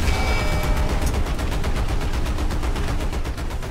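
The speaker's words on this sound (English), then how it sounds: "Keep firing. Jam enough bullets down the barrel." Tank machine-gun fire in War Thunder, a loud, continuous rapid stream of shots hammering away at close range without a break.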